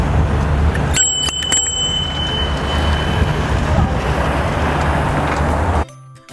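Rental bike riding across the Virginia Tech campus, with a crisp bicycle bell rung in a quick double ding over steady wind and road rumble, which cuts off abruptly at the end.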